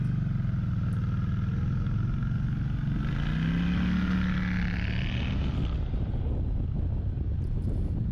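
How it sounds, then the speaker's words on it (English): A Kawasaki VN1600 Nomad motorcycle's exhaust drones under steady wind rush, its note climbing as the bike accelerates, then fading behind the rider's motion. "have very sweet exhaust note coming from the Nomad"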